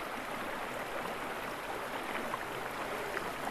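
Snowmelt-fed water of the Velino river in the Apennine mountains rushes in early spring, making a soft, continuous hiss that is steady and fairly distant, with no voices.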